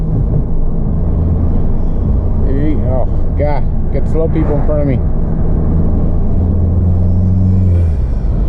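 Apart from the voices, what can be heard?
VW GTI budget build engine and turbo noise while driving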